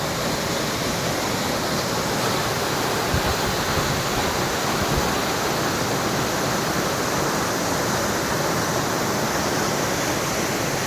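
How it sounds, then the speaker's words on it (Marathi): Durgraj waterfall in the Sahyadri mountains, heard as a loud, dense, unbroken roar of falling water that stays steady from start to finish with no voices. "तिकडे पण धुक्यामध्ये धबधबा आहे दुर्गराज वॉटरफॉल असं या वॉटरफॉलला म्हटलं जातं"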